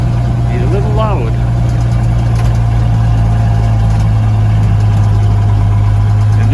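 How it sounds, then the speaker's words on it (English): A 240 six-cylinder engine with a street pipe idles with a steady low rumble, loud and close, while faint voices murmur in the background. "Street pipe on a 240 6-cylinder engine."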